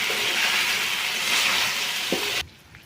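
Chicken fry with ground masala stirred in a hot pan, a loud, close sizzle and scraping that continues steadily, then stops abruptly near the end, leaving quiet.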